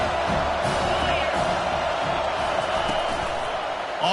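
A stadium crowd in the NCAA 25 college football video game cheers and roars in a continuous, dense wash of noise, loud and steady throughout with occasional whoops rising out of it.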